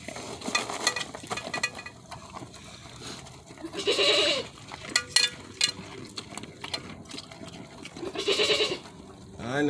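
Goats on a farm feeding on pellets, with munching, rustling and shuffling near the microphone and a few bleats breaking through in short bursts.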